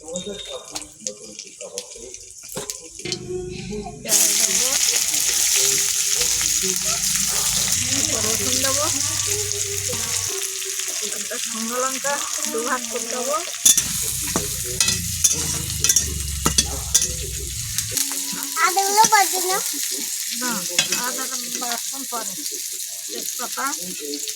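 Whole five-spice seeds frying in hot oil in a wok, a steady loud sizzle after a quieter start, with stirring clatter and running tap water mixed in; a voice speaks briefly.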